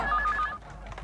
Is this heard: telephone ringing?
yes